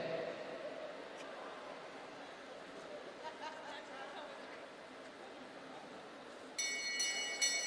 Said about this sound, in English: The bell rings for Davis